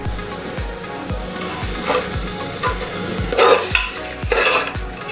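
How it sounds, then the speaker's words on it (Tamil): A spoon stirs mutton gravy masala with garlic paste in a pan for a coconut milk mutton curry. Steady, regular scraping strokes about every half second sound over a soft sizzle, with a few louder clatters near the end. "அந்த ரா ஸ்மெல் போகிற வரைக்கும் நல்லா மிக்ஸ் பண்ணிக்கலாம்."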